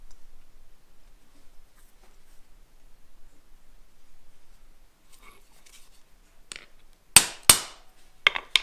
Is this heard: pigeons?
no